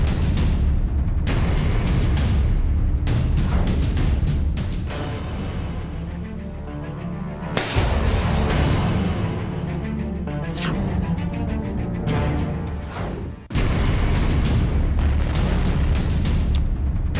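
Heavy Russian shelling in Ukraine: loud, dense booms and blasts pile up in continuous sustained bursts, with brief drops between volleys, and no talking.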